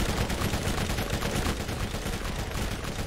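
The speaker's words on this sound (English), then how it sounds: "The SMG is eating him up!" Rapid continuous SMG fire in the Borderlands shooter game on PC, a dense unbroken stream of automatic shots blasting loud and close for the whole stretch, with no talking over it.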